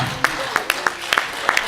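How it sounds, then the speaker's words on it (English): Scattered hand clapping from a small audience at a BB King Day symposium, a handful of sharp distinct claps at irregular intervals over a steady murmur of background noise. "let's give them a round of applause"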